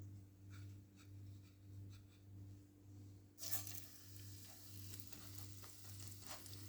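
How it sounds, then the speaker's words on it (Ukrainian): Breaded chicken schnitzel sizzles quietly in a preheated pan over a low hum, with the frying swelling louder and crackling more midway, then settling into a steady sizzle. "Смажити буду по одному шніцелю, бо два шніцеля на сковорідку не вміщуються."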